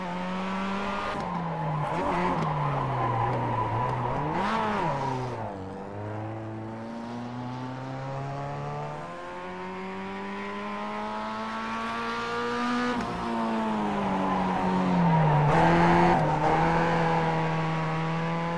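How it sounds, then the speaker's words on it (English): A Mazda race car on racing slicks drifting sideways in the iRacing sim, the engine rising and falling in long revving sweeps as it slides, with tire squeal mixed in, loud and close, no talk. "I'm going sideways in a blooming Mazda in iRacing"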